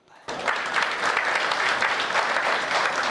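A hasya kavi sammelan audience breaks into loud, sustained applause that starts abruptly and holds steady, dense clapping from a large crowd filling the hall.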